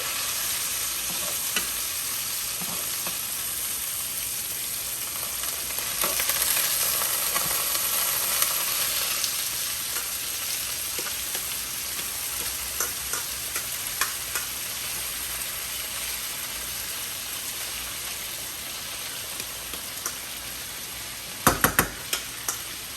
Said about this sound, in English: Saute this rice, that's really good.